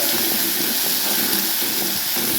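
Kadhi bhaji fritters sizzle in hot oil, a steady, dense hiss of frying that carries on evenly without breaks and with no voices.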